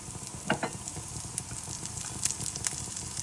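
Moong dal dosa (pesarattu) sizzles and fries in ghee on a hot pan, a steady soft crackle with a few brighter pops, close and alone without talk.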